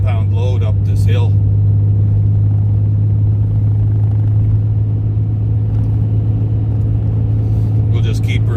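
An old Dodge truck hauls a 15,000-pound load uphill, a steady, deep engine drone holding constant throughout, with someone talking briefly over it at the start and end.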